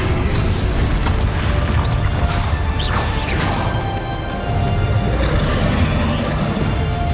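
Confringo spell blasts in Hogwarts Legacy, a dense, loud wash of booming impacts and crashing debris with whooshing bursts, sustained throughout with a brief dip near the middle.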